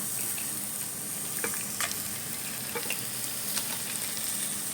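Crab pieces hitting a pan of hot masala for a crab roast, with a steady close sizzle of frying and a few brief clinks and stirring scrapes over it.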